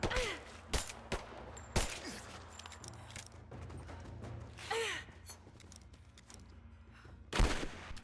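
Sharp gunshots crack out in Rise of the Tomb Raider, several isolated reports spread over a few seconds with a loud one near the end, over a low steady game ambience.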